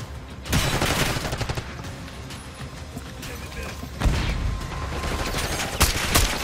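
Rapid bursts of assault rifle fire from the Call of Duty Black Ops 6 video game rattle almost continuously, with louder volleys and booms, while players talk over the shooting.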